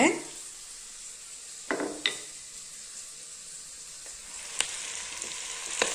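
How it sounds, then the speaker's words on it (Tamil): Onions sauté in oil in a pan for a gongura (sorrel leaf) relish, giving a steady soft sizzle with a few sharp utensil clinks and scrapes from stirring. "வெங்காயம் நல்லா வதங்கிருச்சுங்க."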